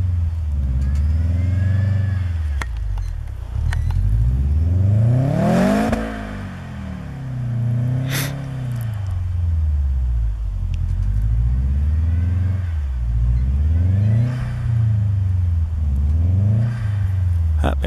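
A Subaru Forester revs hard while its tires spin in snow, the engine pitch rising and falling in repeated swells over several seconds, loud and close, with occasional voices underneath.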